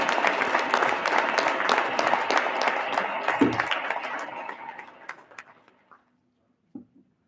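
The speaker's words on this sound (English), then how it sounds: "Round of applause for staff" Audience applause at a national seminar, a dense sustained round of clapping that tapers off near the end, followed by a few scattered claps and a brief stray sound.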